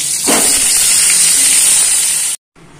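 Pieces of pointed gourd fry in hot oil in a wok, giving a loud continuous sizzle that lasts a couple of seconds before cutting off abruptly.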